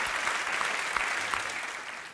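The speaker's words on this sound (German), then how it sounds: "schwacher Beifall von links" Brief, thin applause from part of a cabaret audience, a scattering of claps rising and fading over a couple of seconds with no voices on top.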